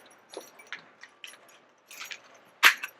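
Keys jangle in short, scattered clinks at close range, ending in one louder metallic shake, with no one talking.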